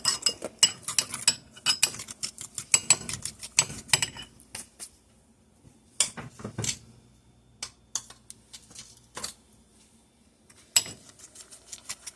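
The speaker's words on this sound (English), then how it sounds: "I just beat it with my fork" A fork beats egg yolks, sugar and vanilla in a bowl for strawberry frozen custard, giving quick bursts of close metallic clinking and tapping against the bowl, broken by short pauses and a few isolated taps.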